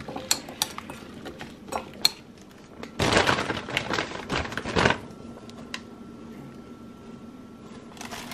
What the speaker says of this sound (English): I'm just going to add a little bit of olive oil on them. I'm just going to mix it all together.